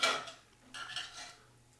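A knife slices steaks from deer quarters on a cutting surface, with short scraping, rasping strokes and a light knock, close and soft, in two brief bursts.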